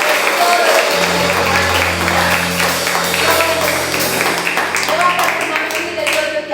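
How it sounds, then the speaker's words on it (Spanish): A Sunday church congregation claps loudly and steadily for several seconds, with sustained low instrumental tones running beneath the applause. "Démosle ese aplauso fuerte a nuestro Señor."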